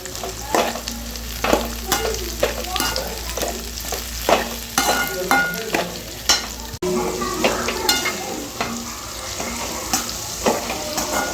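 Gooseberry pickle is sautéed in oil, with repeated utensil scrapes and clinks against the pan riding over a bubbling sizzle, close and rhythmic, and no voices.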